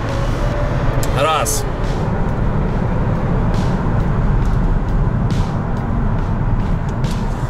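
A Mazda car drives with a steady, fairly loud engine and road rumble as it gathers speed, a brief whine near the start, while someone speaks briefly over it.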